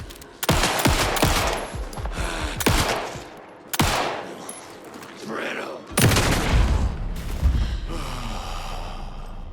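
Bolts are fired in the video game Alan Wake 2, producing several loud, sharp booming shots with rumbling low ends, spread through a dense game soundscape, while a person gasps and sighs.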